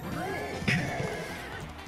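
A horse neighs in a video game, one sharp whinny over a steady game background, close and fairly loud.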